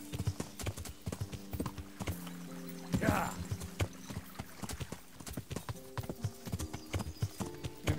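A horse gallops uphill in the Kingdom Come: Deliverance video game, with rapid, close hoofbeats thudding in an uneven, steady rhythm and a brief snort or whinny midway, over faint background music.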